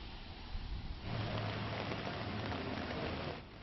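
Rain falls outside a federal court, a steady hiss of drops hitting pavement and surfaces that swells louder in the middle stretch before easing back, with no voices.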